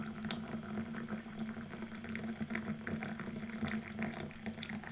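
Hot chocolate pours into a mug in an ASMR roleplay, heard as a steady, close trickling and splashing of liquid that runs unbroken for several seconds, with no talk over it.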